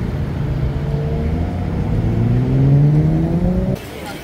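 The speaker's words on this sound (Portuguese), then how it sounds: "lotado de idiota também acelerando o carro na rua" A car revs its engine loud and close on a street at a sports car meet in the United States, its pitch climbing over several seconds before it cuts off abruptly near the end.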